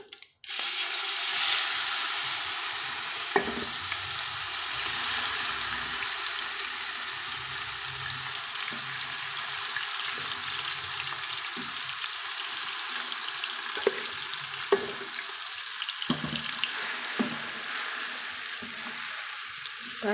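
A citron (narthangai) pickle sizzles and crackles steadily in hot oil for the whole stretch, with occasional stirring scrapes and pops, close and fairly loud, no talking.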